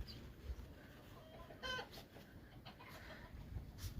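Hens cluck softly in short bursts, with one louder squawk midway, against a quiet, snowy village outdoor background.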